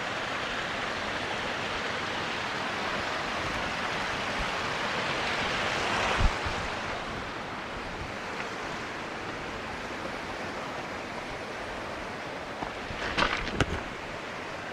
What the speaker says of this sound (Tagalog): Ito hangin.